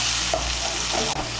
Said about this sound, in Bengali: পেস্টগুলোকে তেলের সঙ্গে ভালো করে মিশিয়ে নেব।